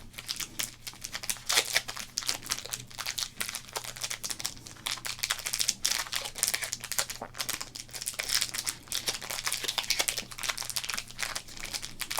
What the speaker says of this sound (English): We'll do some crinkles as we get a feel for it.